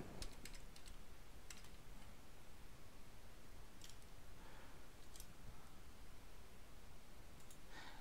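Keystrokes on a computer keyboard entering figures into an Excel spreadsheet: sparse, quiet clicks in short clusters over a steady background hiss, with no talking.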